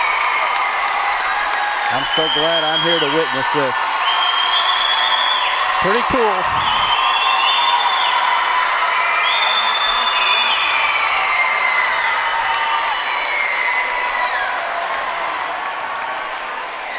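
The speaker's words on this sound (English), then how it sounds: "listen to the crowd here" A high school basketball gym crowd at Westview vs Hamilton roars and applauds in a sustained wash of cheering after a scoring record falls, with a person talking over the noise.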